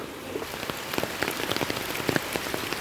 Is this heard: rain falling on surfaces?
yes